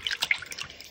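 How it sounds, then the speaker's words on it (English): Water from a tap runs and splashes briefly while a printed fabric quilt label is rinsed, a short burst of close trickling and dripping. "go get some water, and I'm going to rinse these"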